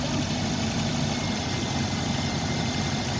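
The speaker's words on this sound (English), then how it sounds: "The engine was starting." A Suzuki Swift engine idling during headlight wiring checks, a steady close rumble with an even low throb and vibration running unbroken throughout.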